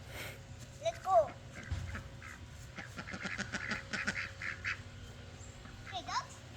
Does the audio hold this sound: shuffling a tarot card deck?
no